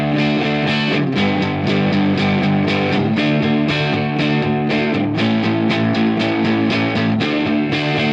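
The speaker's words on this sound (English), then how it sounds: "here's the distorted guitars that come in at the end on the bridge" Distorted electric guitars in a song's bridge, with several layered crunchy, bassy and mid tones playing loud, dense sustained chords with rhythmic strums and brief breaks.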